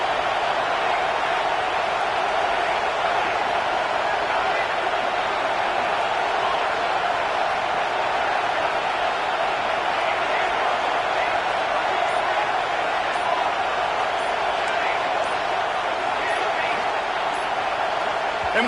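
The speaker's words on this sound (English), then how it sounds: "with this place rocking, the crowd forces a false start" Stadium crowd in a college football video game, LSU versus Penn State, roaring as a steady, loud, unbroken wall of noise on third and long, with commentary voices talking over it.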